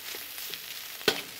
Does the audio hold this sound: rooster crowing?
no